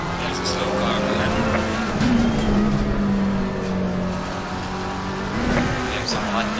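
Race car engines in a racing video game at Imola hold a steady, loud drone with shifting pitch and brief revving swells, while a voice talks over the top throughout.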